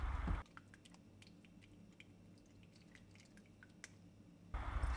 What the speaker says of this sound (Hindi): हल्के हाथों से चम्मच की हेल्प से इस तरह से सारे मसालों को यखनी से अलग कर लेंगे, छान के